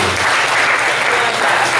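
Audience clapping at a comedy roast, a dense continuous round of applause from a nearby crowd that holds steady throughout.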